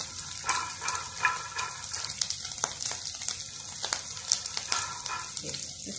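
Chili and garlic roasting in a pan give a steady close sizzle, with scattered sharp crackles and pops throughout.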